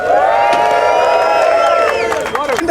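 A crowd at a GoPro booth cheers and whoops loudly in a sustained roar of high, shouting voices, close and filling the space before fading a little at the end.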